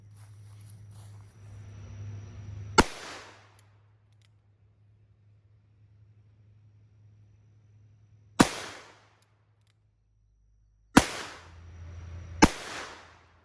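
Four sharp, loud reports from a Smith and Wesson Model 629 .44 Magnum revolver at an outdoor target range, the first two far apart and the last two closer together, over a low steady hum.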